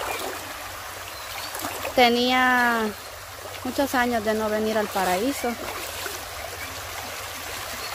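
A small waterfall on a river in El Salvador pours steadily, a constant broad rushing wash running beneath someone talking throughout.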